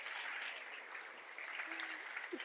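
Audience applause at a live technology event show, a steady, fairly faint wash of clapping with a brief tonal whistle-like sound near the end.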